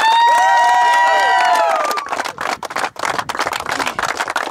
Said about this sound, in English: Let's give a big applause for Deccan Chargers